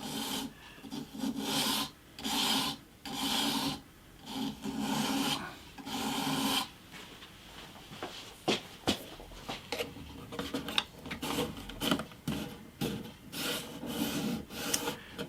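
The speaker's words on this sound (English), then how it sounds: "I'm going to have to sand this little piece down just to fit the gap" A small wooden piece for a guitar bridge is sanded by hand for a 50-year-old acoustic guitar repair. Steady rhythmic rasping strokes, close and loud at first, then quicker, irregular scrubbing with no talking.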